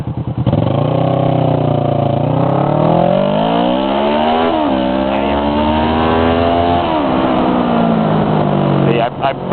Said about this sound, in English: Even though this car is coming through using the green light